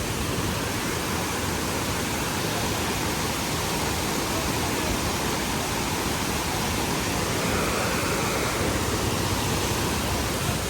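Charpa waterfall near Athirapally in the Vazhachal forest roars with a constant, dense rush of falling water, loud and unbroken, with no voices.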